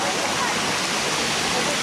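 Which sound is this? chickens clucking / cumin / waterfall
waterfall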